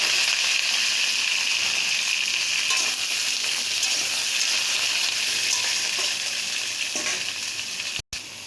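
Cut pumpkin pieces frying in oil left from fried garlic and onion, making a loud, continuous close sizzle with occasional stirring clatter and a sudden brief cut near the end; no talking.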